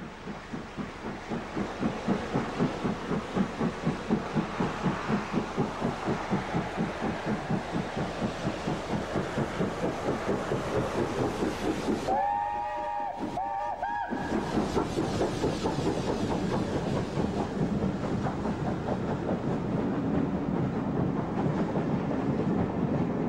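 Steam locomotive 70000 Britannia, built in 1951, on a test run for enthusiast specials: a strong, steady rhythmic chuffing with clickety-clack for over twenty seconds, broken by a short whistle blast midway.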